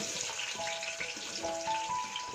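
Onions sizzling in hot oil in a pan while cooking vegetable rice, a steady close crackle with small pops throughout.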